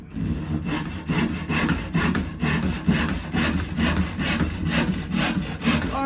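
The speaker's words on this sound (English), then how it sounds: "I quite like the sound of sawing." Wood cut with a hand saw, loud and close, a steady rhythm of rasping back-and-forth strokes about two per second, with no voices.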